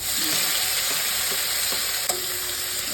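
Onion paste fries in hot mustard oil with a dense, continuous sizzle, close and loud, plus a single small clink near the end.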